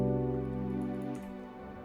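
A warm sustained synth pad, the Shine preset from the Slow Synth pack, holds thick layered chords in a pluggnb beat, fairly steady and then thinning slightly toward the end, with no voices.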